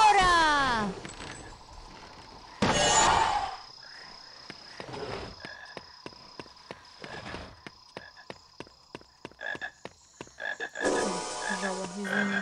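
The toad from the Harry Potter and the Sorcerer's Stone video game sounds off in rhythmic croaks, spaced over game effects and chimes, with bursts of a voice talking in Russian at the start and end.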